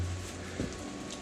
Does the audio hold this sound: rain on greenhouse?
yes